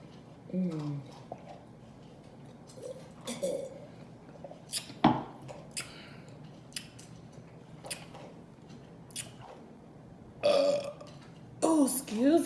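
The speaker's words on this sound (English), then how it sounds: "Excuse me for the burp." Several loud belches erupt during a burrito and nachos mukbang, spread out among quieter eating noises, with a bigger cluster near the end.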